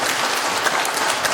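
An audience in a church choir gathering in Harbour Grace applauds a reverend, a short burst of dense clapping from a crowd, close and steady.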